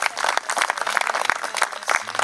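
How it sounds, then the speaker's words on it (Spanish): Audience applauding a poet at a literary gathering, a short, lively burst of many hands clapping close by, with uneven sharp claps throughout. "Adelante, fuerte el aplauso para él."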